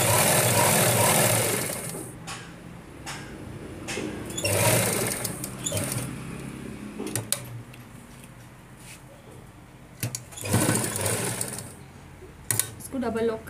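A domestic sewing machine stitches the seams of a midi dress in bursts of steady whirring, loud up close, with pauses where the work is adjusted between runs.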